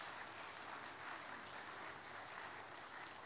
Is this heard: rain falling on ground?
no